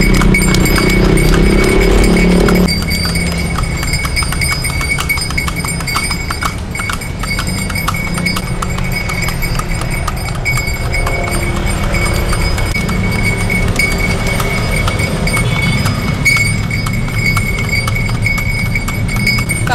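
Horse hooves clip-clop steadily as a horse pulls a delman carriage, rhythmic clopping up close with faint jingling harness, a louder rumble at the start, then even trotting throughout.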